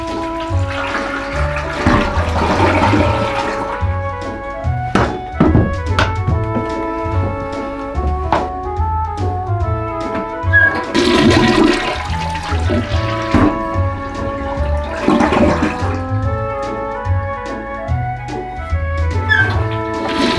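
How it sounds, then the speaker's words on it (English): Rushing water at Niagara Falls, a loud, continuous churning roar that swells and ebbs in waves over the whole stretch, with no talking. "That's a lot of rushing water."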